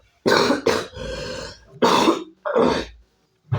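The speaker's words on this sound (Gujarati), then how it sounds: "તબિયત થોડી ખરાબ છે ને મિત્રો, એટલે ઉધરસ ને થઈ ગઈ છે" A man with a cold coughs several times in harsh, close bursts, with throat clearing between them and short silent gaps.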